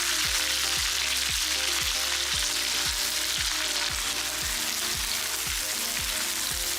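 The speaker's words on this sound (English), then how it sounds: "fry until the onions become translucent" Sliced onion frying in a pan of oil and ghee for aloo matar sabji, a steady close sizzle with a regular stirring scrape repeating about every half second.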